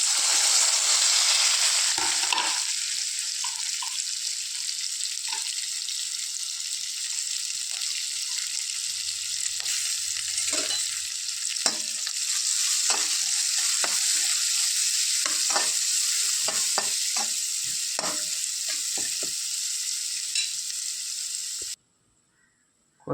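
Onion, ginger and garlic frying in a pan for a sardine dish, a steady bright sizzle throughout with repeated scraping stirs of the spoon, loud and close, ending abruptly.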